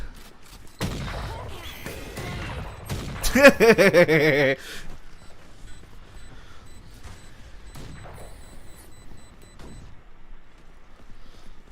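Bursts of rapid gunfire in a shooter game, a dense loud volley around the middle after a sharp opening shot, then quieter ambience with faint later thumps.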